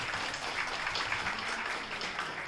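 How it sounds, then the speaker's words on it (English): A steady wash of audience applause fills a medical college quiz hall, applauding the competing teams, with dense continuous clapping at moderate volume and no voices. "huge round of applause for the Pounce teams"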